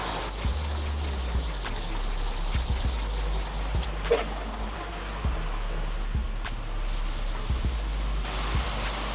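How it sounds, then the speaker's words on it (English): Aluminum cylinder heads being hand sanded with 400 grit sandpaper, soft repeated rubbing strokes against a steady low hum, with occasional light knocks and no talking. "Go across the surface like this, probably with the same 400 grit"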